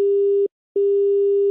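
Two long, steady electronic tones of a phone line's disconnect signal, separated by a short silence.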